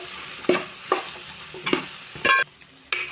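A spoon scrapes and stirs an eggplant and beans curry in a pan, making five short, distinct scraping strokes at an uneven rhythm over a soft background sizzle, close and moderately loud.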